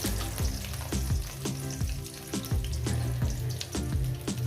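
Taro pieces fry in hot oil with a dense crackling sizzle, while rhythmic scraping strokes of a spatula repeat about twice a second, close and steady, with no talking.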